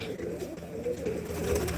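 Soft, low cooing of pigeons kept by a Punjabi pigeon fancier, a brief, fairly faint murmur of calls without any talking.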